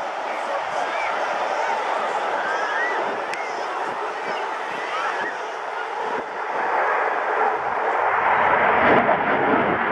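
A jet aircraft flies over the Bournemouth Airshow, a broad roaring rush that holds steady and grows slightly louder toward the end, with a voice talking over the engine noise.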